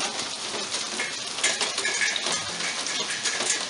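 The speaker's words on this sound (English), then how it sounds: "So, like I said, it comes in spurts. Rain and some more." Rain starts falling in intense weather, a dense patter of drops striking hard surfaces nearby. It is steady, close and fairly loud, with no voices.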